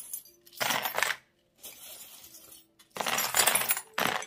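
Small metal charms are cast for a divination reading, giving several bright clinking, jingling bursts with short quiet pauses between them, close and fairly loud with no voice.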